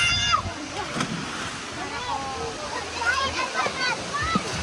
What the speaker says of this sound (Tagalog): We're here at Sagpulon Falls.